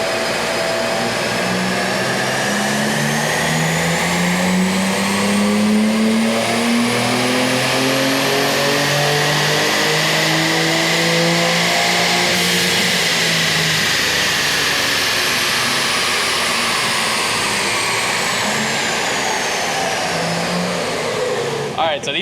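A BMW G80 M3 engine revs while its wheels are driven in place, rising and falling in long sweeps with a loud, close mechanical drone and a high whine running throughout.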